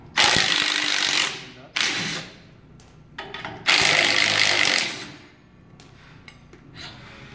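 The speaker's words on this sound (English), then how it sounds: "So with a 3/4 inch socket, take off the inertia disc mounting bolts." A 3/4 inch socket on a power tool removes the inertia disc mounting bolts on an AXIS dyno, loud buzzing bursts of a second or so separated by pauses and fainter mechanical clatter.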